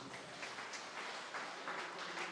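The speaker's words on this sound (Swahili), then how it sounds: "Mpigie makofi mazuri." Congregation at a Pentecostal church service clapping together, a quiet, fairly distant patter of many hands that swells slightly in waves and carries no voices.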